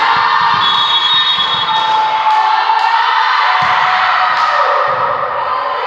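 A crowd screams and cheers at a volleyball tournament match point, a loud continuous high-pitched shrieking roar that swells in waves, with a few shouted whoops over the top.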